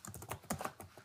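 A handful of quick keystrokes clatter on a computer keyboard as a file name is entered, close-up and alone.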